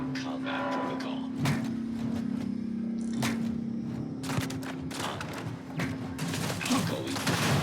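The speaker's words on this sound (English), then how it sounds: "I am opening fire" Rapid bursts of gunfire from the video game Starfield crackle over a steady low engine-like drone, with sharp clustered shots recurring through the passage and a voice speaking in places.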